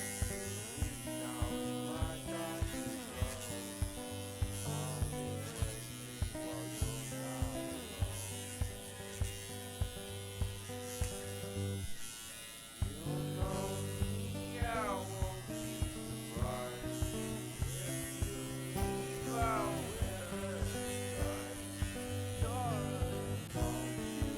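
An electric carving machine trims a tufted rug with a continuous buzzing drone, steady and moderately loud throughout, briefly dipping midway, with music-like tonal layers running underneath.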